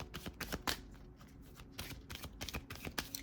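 Tarot cards being shuffled, a quick run of crisp papery riffles and slaps with a few sharper snaps, close up and fairly quiet, no voices.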